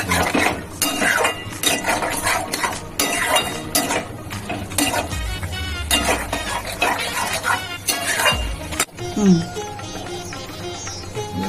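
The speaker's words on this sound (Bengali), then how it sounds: "আচ্ছা, এটাকে অনবরত নাড়তে হবে।" A spoon stirs a thick okra and besan mixture in a pan, producing repeated scraping strokes and metallic clinks with a faint sizzle underneath, fairly loud and close throughout.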